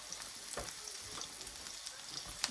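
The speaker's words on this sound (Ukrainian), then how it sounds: "Відправляємо обсмажуватися сюди. І все перемішуємо" Eggplant fries in a pan with a steady, close sizzle and crackle, broken by soft scraping stirs and a few small clinks.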